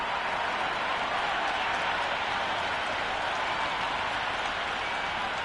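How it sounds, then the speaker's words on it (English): Dense stadium crowd roar and cheering in a cricket video game at an IPL match, a steady, loud wash of noise that fills the whole stretch without a break. "this crowd is already making it hard for me to be heard."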